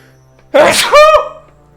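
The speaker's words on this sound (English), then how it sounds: "I gotta sneeze." A single loud sneeze, a sharp burst followed by a voiced trailing tail, close to the listener with near silence around it.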